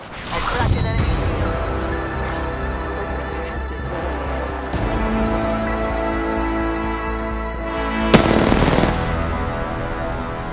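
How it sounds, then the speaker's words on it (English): Automatic gunfire in Apex Legends, a steady loud stream of rapid shots that runs for several seconds and then breaks off, with one sharp blast near the end. "They're shooting at me."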